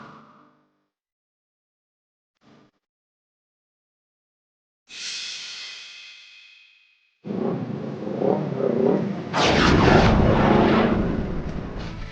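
Motorcycle engine revving up loudly nearby, a rising roar that swells and holds strong, preceded by a brief burst of higher whine and short quiet gaps.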